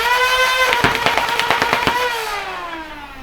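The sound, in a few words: flywheel foam dart blaster firing, emptying its magazine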